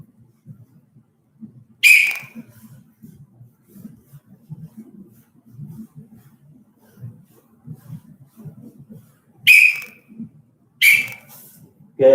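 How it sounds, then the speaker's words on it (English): Three sharp whistle blasts signal the steps of a beginners' martial arts drill: one early, then two close together near the end, each loud and clear over quiet, murmuring room noise. "Wait right there, wait for the second whistle to start again."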